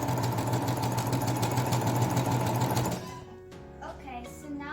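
A sewing machine runs steadily and loudly while stitching a seam joining the two halves of a cape, then stops, and a voice speaks afterward.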